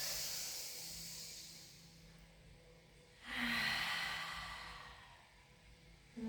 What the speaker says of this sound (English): Take a breath in. Two more big breaths.